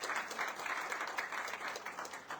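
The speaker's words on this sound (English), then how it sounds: "Let's give them a round of applause this evening" An evening audience applauds award nominees at a formal ceremony, a soft but steady patter of many hands heard from a distance, continuous and even for the whole moment.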